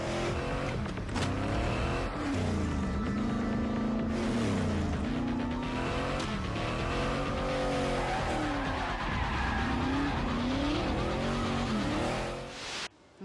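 A car drifts sideways on a wet road in the film Gone in 60 Seconds, its engine revving and wavering continuously as the tires skid, loud and close for the whole stretch.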